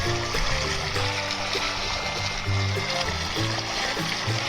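Clear hill country creek flowing over a limestone bottom, a steady close rush and splash of running water that fills the whole stretch without pause.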